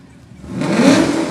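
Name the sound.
2015 Chevy Camaro 2SS engine rumble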